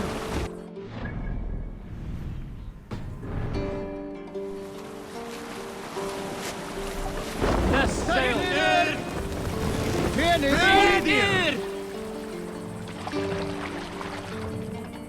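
A Viking sailing ship on open water in Assassin's Creed Valhalla, with wind gusts, splashing waves and creaking, plus voices calling out over the sea noise.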